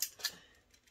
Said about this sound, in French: je coupe pour retirer ce carré là